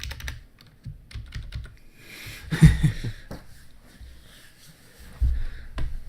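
Fingers tapping on a computer keyboard during a Magic: The Gathering Modern tournament semifinal, with soft irregular keystrokes in bursts, a louder cluster near the middle, and faint breathing and room noise.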